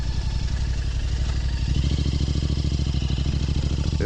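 A Royal Enfield Interceptor 650 motorcycle rides along a road, its engine giving a steady, close, pulsing thrum that grows slightly fuller and louder partway through, with no talking.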